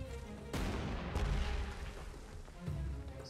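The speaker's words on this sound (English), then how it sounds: "here's where we use artillery" Artillery fire in the Panzer Corps 2 game around Egypt: a couple of heavy booms with rumbling tails, moderately loud and otherwise alone.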